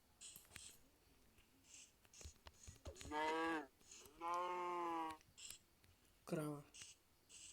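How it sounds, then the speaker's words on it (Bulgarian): A Minecraft cow moos in a few drawn-out lowing calls, clear and close, with short pauses between them. Quiet clicks and game sounds fill the gaps. "Крава."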